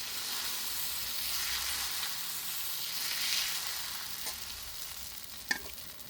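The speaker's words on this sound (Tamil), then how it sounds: "நான் இப்போ முட்டை தோசைக்காரருக்கு முட்டை தோசை சுட போகிறேன்." Egg dosa fries on a pan with a steady, close sizzle that swells slightly midway, broken by a couple of faint taps, including one sharp clink near the end.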